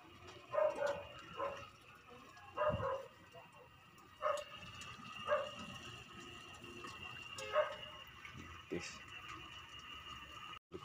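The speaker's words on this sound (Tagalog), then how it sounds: "Ingay ng aso dito." Faint dog barks from a distance, about half a dozen spaced yelps and woofs over a quiet background hum.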